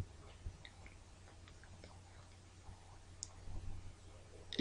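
Computer mouse clicks while drawing lines in PhotoFiltre 7 image software, a few faint, sparse taps close to the microphone over a quiet room hum.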